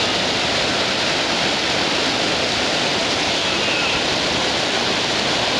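Whitewater river at Barton Creek rushing loudly and steadily, a dense unbroken roar of churning water filling the whole scene with no pauses.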